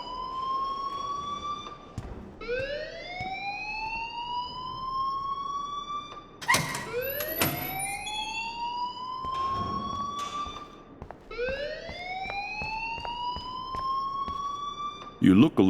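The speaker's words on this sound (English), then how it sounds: "please turn off that alarm since that's your job." An alarm sounds in the video game Life Is Strange, a repeating rising electronic wail that cycles several times at a steady pace, with a voice talking over it and sharp clatter in between.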